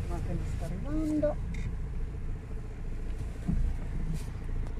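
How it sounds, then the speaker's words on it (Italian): On Rome's Grande Raccordo Anulare ring road, a car approaches with a low, continuous engine and tyre rumble heard from inside a moving vehicle, while a person briefly speaks over it. "Sta arrivando macchina di qua."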